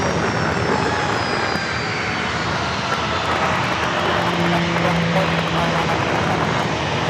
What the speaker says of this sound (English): American Flight 2131 heading to Chicago O'Hare. 737-800.